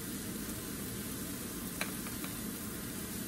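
Shrimp frying in hot oil in a pan: a steady, close hissing sizzle throughout, with a few faint clicks and one brief tap.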